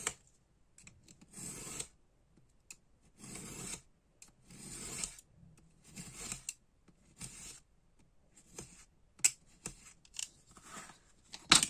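Scissors cutting cardboard for a desk organizer, heard as a series of short rasping snips in irregular bursts, fairly close and moderately quiet, with no talking.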